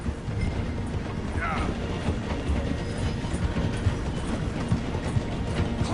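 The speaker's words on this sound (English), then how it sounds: "The train is slowing down to go through the station." A train in Red Dead Redemption 2 slows through a station, with a steady rumble, rhythmic wheel clatter and a brief squeal, continuous and fairly close.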